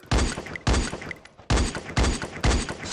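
Heavy gunfire bursts in a video game, five loud booming shot clusters in steady rhythm about half a second apart, close and punchy with no talk over them.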